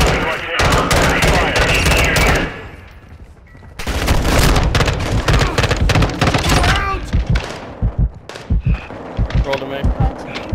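Gunfire in Call of Duty MW2 DMZ: bursts of automatic fire and heavy booms crackle loudly in dense volleys, pause briefly, then resume with scattered single shots.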